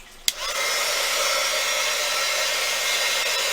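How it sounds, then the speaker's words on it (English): A heat gun for embossing switches on with a click and then blows a steady, loud whooshing hiss of hot air, close and unbroken. "I always heat my heat gun off of the surface I'm embossing, just so that it's hot and ready."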